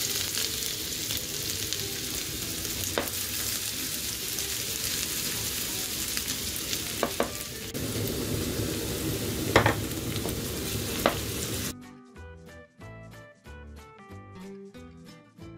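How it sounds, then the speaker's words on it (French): Onions frying in olive oil, a constant close crackling sizzle with a few sharp taps and stirring knocks for most of the stretch, then giving way to a short passage of music. "on va laisser chauffer avant de faire revenir les oignons"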